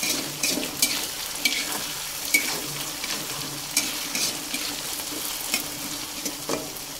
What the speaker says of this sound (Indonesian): Kita bolak-balik biar matangnya merata.